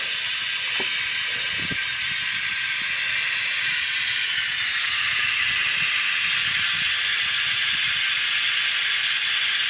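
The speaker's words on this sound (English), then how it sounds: "get one with a pneumatic connection if you got an air compressor" An OEMTOOLS pneumatic fluid extractor hisses steadily and loudly under air-compressor pressure, a constant close rush of air with faint clicks early on.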